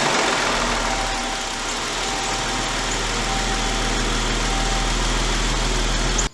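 A Jeep Grand Cherokee L engine idles steadily after an oil change, a close, constant low rumble with a faint vibrating hum that cuts off abruptly at the very end.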